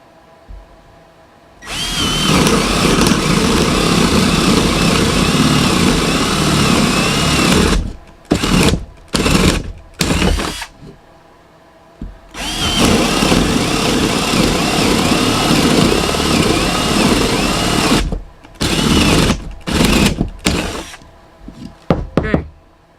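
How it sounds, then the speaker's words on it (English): A Ridgid 12-volt cordless drill with a 3/4-inch spade bit whines loudly for two long stretches of boring, with brief stop-start bursts of the motor between and after them. "Let's drill a couple of quick holes. 3/4 inch spade bit."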